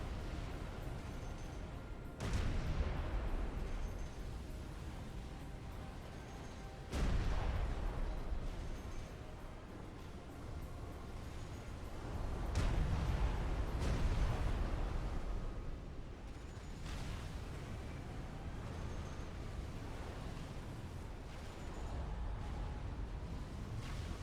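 Summit class battleships in Supreme Commander fire heavy naval guns, a few deep booming blasts spaced several seconds apart over a steady rumbling battle background.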